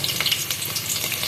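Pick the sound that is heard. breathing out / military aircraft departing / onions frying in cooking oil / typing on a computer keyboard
onions frying in cooking oil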